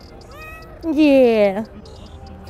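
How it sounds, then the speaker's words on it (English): A cat on an Istanbul street gives one clear, close meow lasting about a second, with a brief word spoken just before it. "She's purring."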